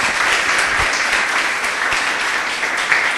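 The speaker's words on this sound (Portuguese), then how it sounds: "Louve ao Senhor com suas palmas," A church congregation claps hands together in worship, a dense, steady wash of many palms filling the room at close range with no voices over it.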